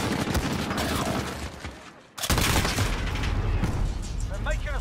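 Loud rapid gunfire crackles in a 2v2 Gunfight match of Call of Duty: Modern Warfare, bursts of automatic fire with a short lull before shooting resumes, while a player talks over it.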